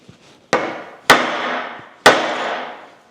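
A hammer strikes a socket on a Scout drive shaft three times, each a loud, sharp metallic whack with a ringing decay, spaced roughly half a second to a second apart.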